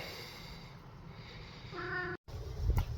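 A single short cat meow rises over low background noise, followed by a brief cut in the sound and a soft thump.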